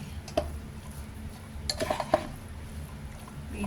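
Fried udon noodles with pork and vegetables being mixed with soy sauce in a pan, faint scattered clinks and scrapes of a utensil over a low steady background hum.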